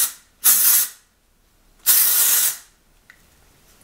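Texturizing hair spray from an aerosol can, two loud sustained bursts of hissing spray, each under a second long, separated by a pause, then quiet.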